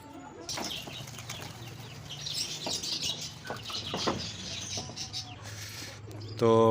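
Young chicks and hens cluck and flutter around a home yard near a pigeon loft, soft clucks and wing flaps close by, ending in a louder burst.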